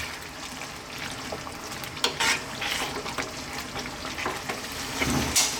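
Jamaican brown stew chicken with brown sugar simmering and frying in a pan, giving a continuous close sizzle with occasional stirring clatter and bubbling, no talking.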